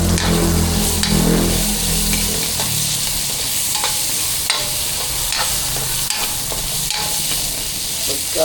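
Black pepper sautés in a pan while cooking spicy chicken adobo, with a steady loud sizzle and frying hiss throughout and light stirring knocks now and then.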